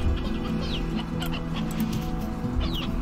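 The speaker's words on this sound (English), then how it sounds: "Keep the roosters." Chickens and roosters in the Slime Rancher video game cluck and call over a steady farmyard ambience, with several birds sounding close together and no talk.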